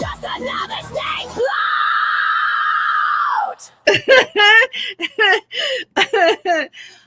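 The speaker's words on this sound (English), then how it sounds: "I love that scream at the end." Shrill screams come from a played clip, first a long sustained high shriek, then a rapid run of short loud yelps and cries in a burst.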